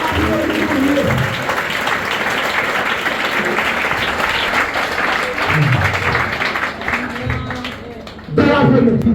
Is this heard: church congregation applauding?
yes